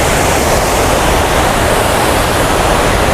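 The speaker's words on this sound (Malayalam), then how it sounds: "ഇതാണ് ആ തൂവൽ വെള്ളച്ചാട്ടത്തിൻ്റെ ആ ഒരു ഭംഗി." Thooval waterfall in Idukki, Kerala, roars as a loud, dense, unbroken rush of falling water, close by and filling the whole scene.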